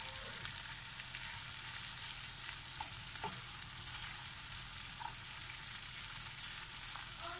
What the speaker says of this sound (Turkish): Ve şimdi haşlamış olduğum patlıcanlarımı da içerisine ekliyorum. Şöyle bir karıştıracağım.